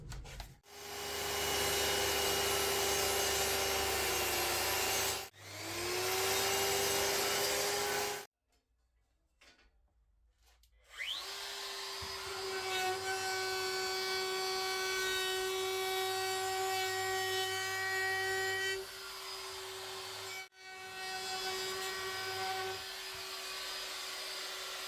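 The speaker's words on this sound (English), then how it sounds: "I'm just going to trim both ends off." Power saw trimming both ends off wooden pieces for a coaster and biscuit tray, a loud sustained whine running in two long cuts with a brief pause between, no talk.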